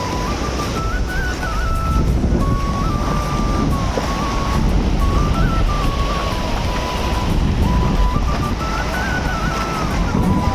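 Floodwater rushes forcefully through a flooded village near Baleshwar in Odisha, a loud, unbroken roar of churning water mixed with buffeting wind on the microphone, steady for the whole stretch, with a thin whining tone drifting above it.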